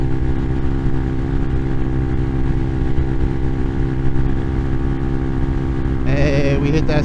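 A fully modded 2022 Amazon Hawk 250 motorcycle runs at full throttle downhill near top speed, a loud, steady engine drone with wind rush that lasts throughout, ending in a brighter, rougher burst near the end.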